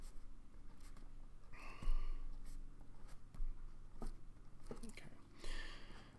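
A pen scratches across paper while a trigonometry graph is drawn, soft scraping strokes in short bursts heard close, with a teacher's voice talking over them.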